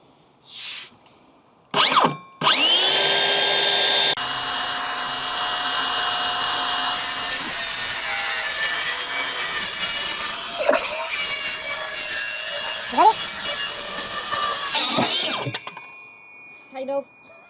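A power saw cutting a wooden cupboard shelf board inside a Ford Transit Custom camper van, two short revs and then a long, loud, steady whining cut that winds down, with brief talk near the start.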